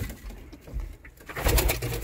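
Racing pigeons coo softly inside a loft, several low, rounded coos in a short burst with a faint rustle between calls and no talking.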